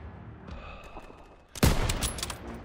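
Gunfire in the World War II shooter game Call of Duty: WWII, starting as faint distant shots and then erupting into a loud, dense burst of rifle and machine-gun fire that keeps crackling.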